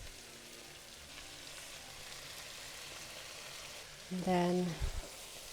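Spicy pepper chicken hits a hot pan on high heat with a soft, steady sizzle, then a brief louder burst of frying near the end as a voice speaks a couple of words.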